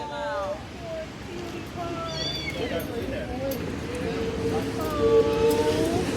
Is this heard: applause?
no